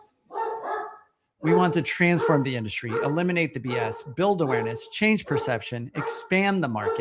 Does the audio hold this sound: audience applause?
no